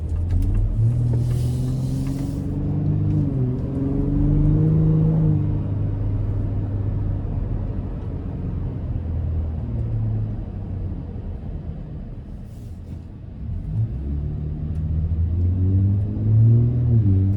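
Deep, low sport exhaust rumble from a 2025 Ford F-150 Raptor pickup, swelling and easing as the revs rise and fall, loud and close with no talking.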